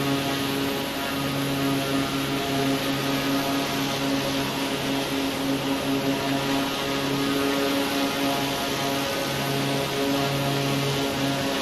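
A propeller aircraft droning steadily in Microsoft Flight Simulator 2020, a continuous engine hum with a low tonal buzz and no talk.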